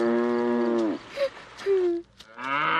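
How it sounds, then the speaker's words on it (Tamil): Cows moo in a few long, drawn-out calls, fairly close and clear, one after another with short pauses between. "மற்றொரு சமயம் கிருஷ்ணர் மாடுகளை மேய்த்துக் கொண்டிருந்தார்"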